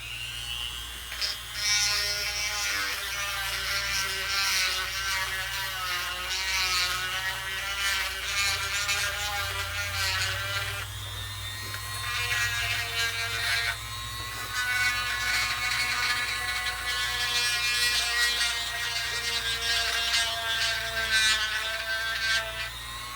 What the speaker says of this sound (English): I got Dremel this down where it'll fit inside here